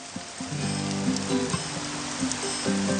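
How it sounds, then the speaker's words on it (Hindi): Steady rain falls in an outdoor setting, a continuous soft hiss of drops with a low tonal hum running underneath. "हम जब भी मिलते बारिश होती है।"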